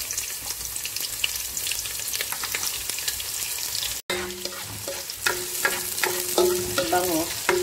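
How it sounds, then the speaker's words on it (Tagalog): Onion frying in a pan with garlic, a steady dense sizzle that brightens and crackles more after a brief drop-out halfway through, with stirring scrapes and no talk. "Maglalagay na tayo dito ngayon ng sibuyas."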